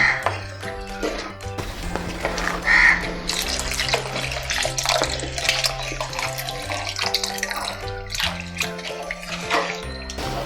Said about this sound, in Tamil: நல்லா மிக்ஸ் பண்ணி விட்டுட்டு தேவையான அளவு தண்ணி ஆட் பண்ணிக்கலாம்.